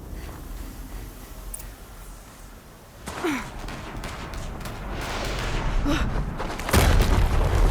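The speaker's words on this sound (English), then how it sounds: "Another explosion." Explosions in the video game Horizon Zero Dawn Remastered: low booming blasts over a constant ambient game rumble, one hit around the middle and a heavier, louder thud near the end.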